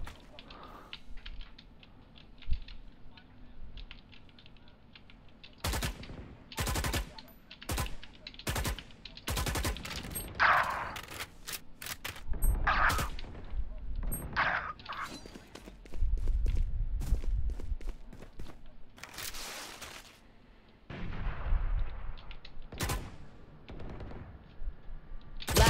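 Gunfire in the tactical shooter Valorant during a collegiate match: bursts and single shots begin after a quieter stretch, with sharp loud volleys around the middle and again toward the end, mixed with footsteps and game sounds.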